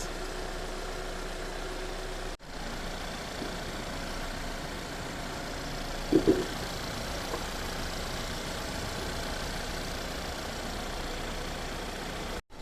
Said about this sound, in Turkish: Şimdi marşı bastık.